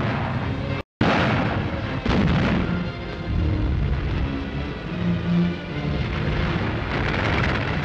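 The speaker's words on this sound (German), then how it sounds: "Deutsche Artillerie stärkerer Kaliber und Panzerartillerie beschießen angreifende Sowjetpanzer." German heavy artillery and tank guns fire on advancing Soviet tanks in a 1944 Eastern Front newsreel, a loud continuous roar of booms and blasts broken by a brief silent gap near the start.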